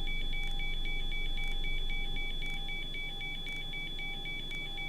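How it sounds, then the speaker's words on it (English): A cockpit alarm in a simulated Boeing 737-800 sounds in X-Plane 11 as a steady, rapid train of high electronic beeps repeating evenly over a constant hum, with no talking. "I've got an alarm going off somewhere."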